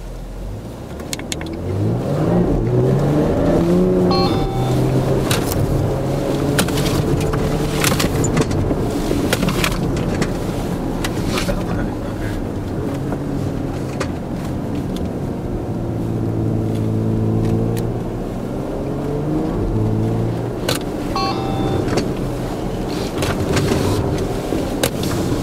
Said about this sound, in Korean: 스포츠 플러스 모드로 한번 또 주행을 해보겠습니다